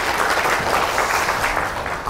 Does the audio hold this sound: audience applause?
yes